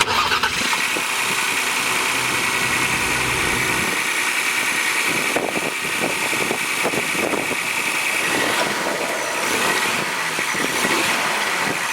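A 2020 Lincoln Aviator's twin-turbo V6 engine cranks and catches, then settles into a steady, fairly loud idle with a continuous mechanical hum.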